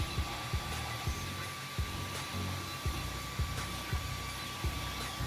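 Steady mechanical whirring hum of a Creality Ender 3 Pro 3D printer running, with a faint tone and regular soft clicks or thumps repeating about twice a second, no voices.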